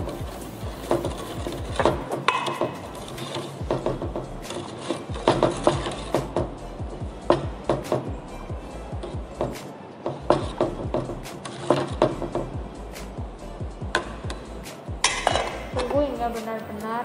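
A utensil scrapes and clinks steadily against a pot of boiling sinom herbal drink made with tamarind, sugar and salt, with busy rhythmic stirring and knocks throughout, close and loud.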